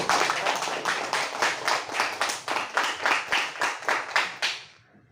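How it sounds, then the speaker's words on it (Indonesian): A classroom of students claps together in a steady, rhythmic beat of evenly spaced bursts, close and loud, with no talking, before stopping abruptly. "tepuk tangan dulu"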